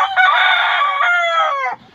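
A gamefowl rooster crows loud and close in one long, strong cock-a-doodle-doo that holds for nearly two seconds and then cuts off, with no talk over it.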